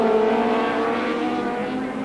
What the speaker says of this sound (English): Crosby has over-revved that motorcycle down the chute